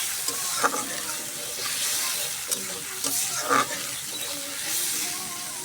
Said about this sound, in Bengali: পানিটা যতক্ষণ না মরে যাচ্ছে ততক্ষণ আমি ভাজতে থাকি